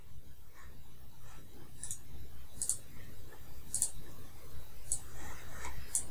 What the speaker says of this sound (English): I'm going to move it and I'm going to click login.